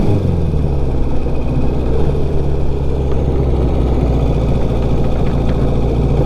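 A restored 1954 Ariel Square 4 motorcycle with a new motor and clutch runs steadily near the microphone, a continuous low rumbling idle with a mild vibrating hum and no voices.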